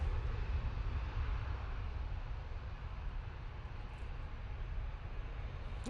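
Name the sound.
Aer Lingus airliner crossing runway at Manchester Airport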